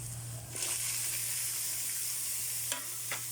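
Chayote (sayote) sautéing in a hot pan gives off a steady, close sizzle, broken by a few sharp stirring scrapes against the pan.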